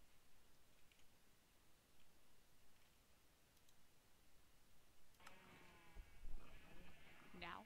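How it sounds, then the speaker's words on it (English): Faint background hiss, then a sheep bleats nearby near the end, a wavering cry with a few clicks around it. "it sounds like a barnyard"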